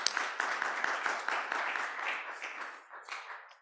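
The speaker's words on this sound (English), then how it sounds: "Another good round of applause to yourselves." Audience applause at a Limpopo workshop session, a dense steady patter of many hands clapping close by that thins and fades toward the end, with no voices over it.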